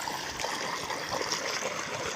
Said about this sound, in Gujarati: 15 લીટરનો પંપ છે ને પંપમાં પાણી ભરશું।